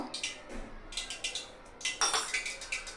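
A metal lid clinks and rattles against a pan of heating oil, a quick series of light, close metallic taps and scrapes as it is lifted off.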